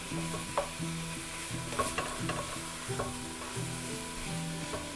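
Andouille sausage frying and stirred in a pan for jambalaya, with a steady close sizzle and repeated scraping stir strokes every second or so, no voices.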